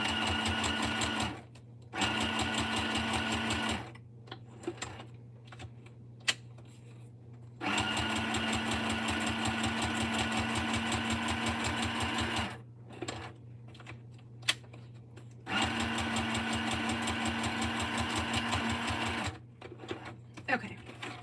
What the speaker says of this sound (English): I'm gonna stitch this on here to create a pocket, and then this is the only thing I have to sew